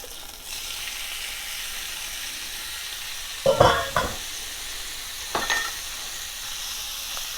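Shrimp cooking in hot fat for shrimp and grits give a steady, soft sizzle, broken by a few louder scraping stirs near the middle and again toward the end.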